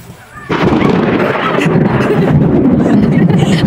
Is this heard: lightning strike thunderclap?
yes